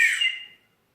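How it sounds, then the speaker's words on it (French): A survival whistle hooked onto an evacuation bag gives one short, shrill, fairly loud blast that fades out after about half a second. "Après, j'ai accroché sur le sac, j'ai mis un sifflet."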